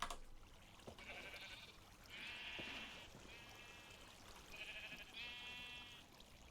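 Sheep in the Minecraft video game bleating repeatedly, four or five wavering bleats in a loose rhythm against a soft background hiss.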